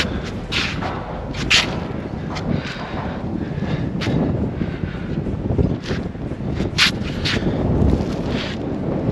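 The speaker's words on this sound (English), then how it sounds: "It's very windy though." Strong wind buffeting the microphone outside by a bent, broken ladder at an abandoned historic mining town in New Zealand, with loud irregular gusts and thumps over a constant rough roar.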